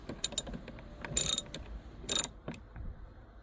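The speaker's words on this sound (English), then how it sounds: "To remove this screw, like I said, you will need Torx T15." A ratchet works a Torx T15 screw loose from a Ford Fusion front driver's door panel: close, dry clicking mechanism in two brief bursts amid light handling noise.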